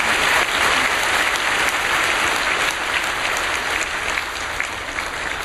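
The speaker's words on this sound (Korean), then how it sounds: "여러분들에게 인사드릴 때 여러분 큰 박수로 격려해 주시기 바랍니다" Church congregation applauding loudly and steadily for several seconds, a dense wash of clapping close by that stays even before easing slightly at the end.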